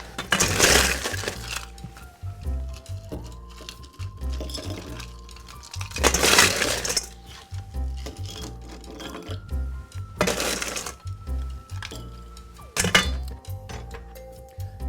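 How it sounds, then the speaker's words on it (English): Ice cubes dropped into glasses of pre-mixed Manhattans, heard as several loud clinking, rattling bursts spaced a few seconds apart, close by, with quieter clinks in between. "all we're going to do now is just ice them up"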